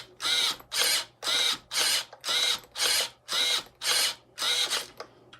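A stock steering servo in an RC car runs at 7.4 volts, sweeping back and forth in nine evenly spaced bursts of high, buzzing gear whine, each about half a second long, close up with no talking.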